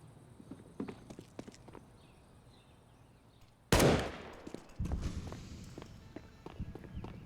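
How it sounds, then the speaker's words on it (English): In Counter-Strike on the Inferno map, during a professional match at IEM Katowice 2023, a single sharp, loud gunshot cracks out midway. Soft footsteps patter before and after it. "That one gunshot, great catch from the Obs team"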